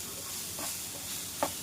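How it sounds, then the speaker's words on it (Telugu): Ginger garlic chilli paste fries in a pan with a bright, continuous sizzle while a spoon stirs it, scraping briefly now and then. "ఇది ఇలాగా పచ్చివాసన పోయేంత వరకు ఒక్కసేపు వేయించుకోవాలి."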